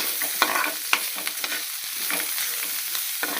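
Ivy gourd stir-frying in a pan, stirred with a ladle: a close, dense sizzle punctuated by several sharp scraping and tapping strokes of the ladle, with no voices.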